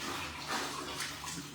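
A dog named Rendon is bathed with water, giving soft, faint splashing and running-water noise with a low steady hum underneath and no speech.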